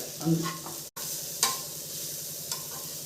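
Curry leaves, turmeric and a little chili powder sautéing in a pan, a soft steady sizzle with a few brief stirring scrapes, close and fairly quiet, no talking.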